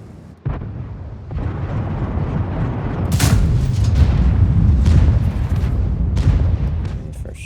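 A tank cannon fires in World of Tanks, one heavy booming blast after a softer thump, followed by rumbling engine and battle noise that holds loud for several seconds, close up with no voices.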